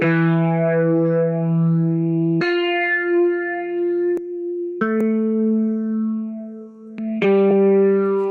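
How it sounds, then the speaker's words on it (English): Guitar played through a Mesa Boogie California tone amp simulator plugin: sustained, harmonically rich chords and single held notes with changes every couple of seconds, loud and close, mildly saturated, with no talking. "we are using the California tone, which is a Mesa Boogie"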